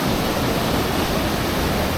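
A hidden waterfall near Dolwyddelan Castle rushes as a constant, loud, broadband roar of falling water, close and steady with no other sounds.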